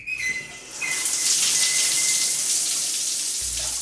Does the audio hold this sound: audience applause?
no